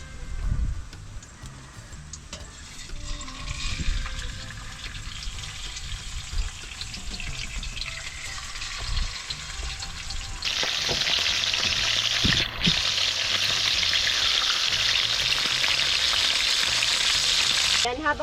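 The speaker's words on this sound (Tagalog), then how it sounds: "Ito lang po painitin tapos piprito." Salted fish sizzles and crackles in hot cooking oil with a steady, bright frying hiss that grows louder and denser midway, alongside occasional clinks and stirring sounds nearby.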